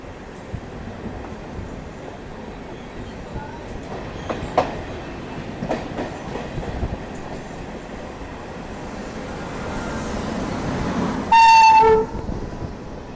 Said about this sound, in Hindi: बाकी इस तरफ जो है वो सद्भावना एक्सप्रेस क्रॉस हुई।